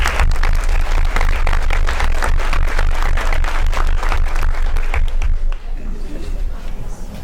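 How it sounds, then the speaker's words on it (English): An audience at a teaching workshop session claps loudly, with individual hand claps standing out in a quick, uneven patter before the sound thins toward the end. "Can we give them a round of applause"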